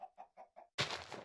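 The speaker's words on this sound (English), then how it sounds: "oh, chickens as well" Chickens cluck in the Minecraft 1.20 game: four short, evenly spaced clucks, then a sudden loud, broad burst of noise that runs to the end.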